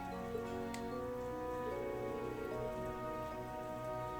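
Rain patters softly and continuously in the video game Trails of Cold Steel III, a faint even wash under steady background music.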